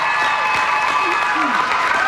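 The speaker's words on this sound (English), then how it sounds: "I think a special round of applause for everybody who's been here" A crowd applauds steadily, dense clapping filling the space, with a voice briefly rising over it.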